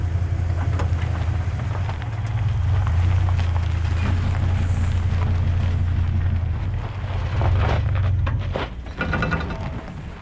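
A 1995 Ram 2500 with a V10 engine crawls off-road in four-wheel drive high, its deep steady engine rumble loud and continuous with rough scraping and crunching over the terrain.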